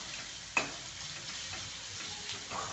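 Onion and curry leaves frying in hot oil in a pan, a steady soft sizzle with one sharp tick near the start, close and fairly quiet.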